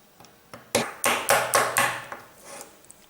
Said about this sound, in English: we're going to try to take the bracelet off from these pins here. So let's put this thing here, if you can see that, and we're going to hammer it